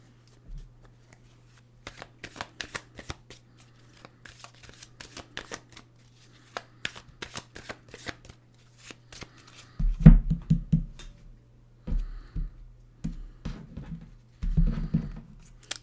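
Tarot cards being shuffled by hand, a long run of quick papery riffles and taps with soft bumps of the deck against a table, close and with a faint steady hum underneath, no talking.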